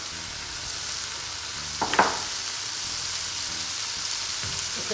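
Chicken satay fries in a pan with a steady broadband sizzle, and a brief scrape of stirring cuts in near the middle before the hiss settles back to an even crackle.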